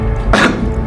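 A single short, sharp cough from a person in an Indonesian drama skit, one abrupt burst over a low background hum.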